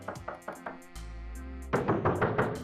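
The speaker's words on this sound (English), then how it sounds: "you will get some feedback knocking on the other side." Knocking on a normal door in Super Mario Maker draws answering knocks from the other side: a series of short, evenly spaced game knock sounds, then a low sustained tone and a louder, denser burst of effects at the end.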